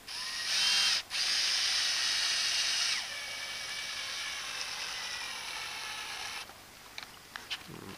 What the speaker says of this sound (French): Vous prenez un embout Torx et vous vissez l'ensemble sur la paroi.